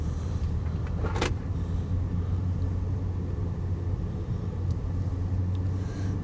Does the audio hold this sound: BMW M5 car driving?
yes